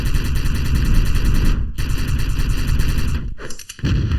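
Loud, dense rocket launcher fire and explosions from an Open Arena competitive duel match, a steady barrage that breaks off briefly twice before resuming.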